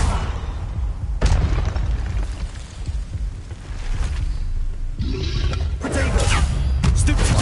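An Incendio fire spell blast in a Harry Potter video game, a booming whooshing burst heard amid other loud spell impacts and crashes, with sharp bursts recurring throughout.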